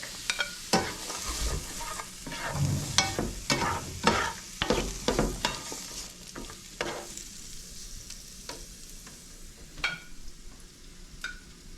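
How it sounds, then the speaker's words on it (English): Onions and garlic sautéing in a pan, a steady close sizzle broken by repeated scraping and clattering stirring strokes, louder and busier early, thinning toward the end, with no talking. "We're gonna saute some onions, garlic"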